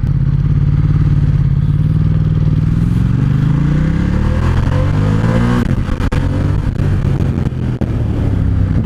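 A Ducati XDiavel motorcycle engine runs steadily near the listener, its low rumble rising in pitch as it revs up, then settling back with some clattering mechanical noise. No one speaks.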